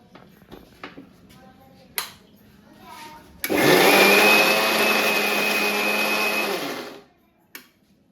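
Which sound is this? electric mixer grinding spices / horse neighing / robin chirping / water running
electric mixer grinding spices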